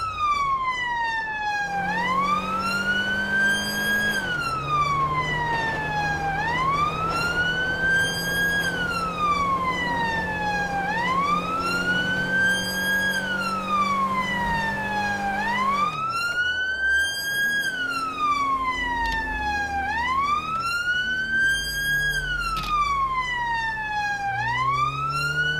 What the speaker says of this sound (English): Go quiet, turn the sirens off.